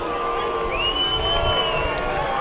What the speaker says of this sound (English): We got some cheering in the crowd.